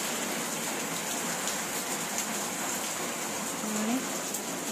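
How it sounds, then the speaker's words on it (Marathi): Heavy monsoon rain pours down steadily in a broad, unbroken hiss that stays loud and even throughout, with no voices breaking through. "असा हा धो पाऊस दिसतोय किती पाऊस आहे"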